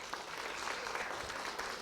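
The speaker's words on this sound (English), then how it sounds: "Big round of applause to Tom Caper there" Faint, distant audience applause for guitarist Tom Caper after he played over lunch at a speaking event, an even wash of clapping that holds steady throughout.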